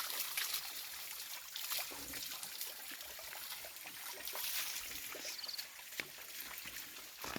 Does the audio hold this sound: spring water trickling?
yes